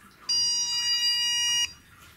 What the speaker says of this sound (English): the first two are just kind of warning beeps, so it's a very short beep